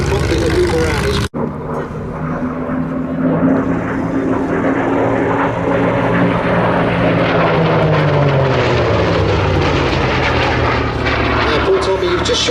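A Hawker Fury II fighter rolls during an airshow display at Sywell in 2024, its big piston engine roaring loud and steady with a drawn-out droning pitch that slowly sweeps lower as it passes.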